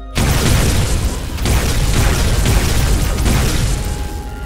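Heavy booming gunfire in an SCP-106 horror video game, a dense run of loud blasts with no pauses, filling the clip without any talk.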